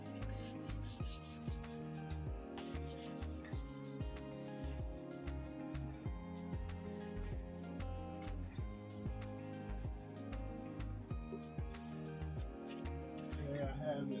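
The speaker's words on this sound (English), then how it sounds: "I have it sanded down with 1200" Grey primer on a custom front bumper for a 1992 Mazda MX-5 sanded with 1200-grit sandpaper, giving close, steady rhythmic rasping strokes over a constant tonal background.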